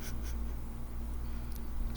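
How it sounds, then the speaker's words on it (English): Sparse computer keyboard clicks, a few soft taps scattered over a steady low electrical hum, with no talking. "don't mind my keyboard, I have to click."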